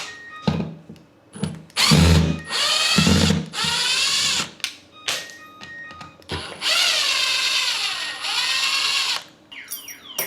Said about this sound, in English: Let me grab my drill.